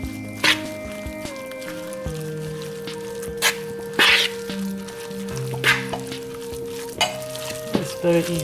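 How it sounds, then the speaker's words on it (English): Pumpkin pancake batter with flour and cinnamon is stirred in a bowl, with bursts of spoon scraping and clinks over a steady background hum and tones; no talking. "Now I have to mix everything."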